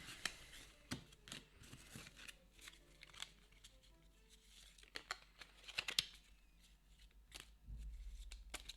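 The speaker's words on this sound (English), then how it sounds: "Let's shuffle the item deck." Cards from the item deck of the Final Girl board game being shuffled by hand, a run of crisp riffling bursts and flicks at close range over a quiet room, ending in a low rumble.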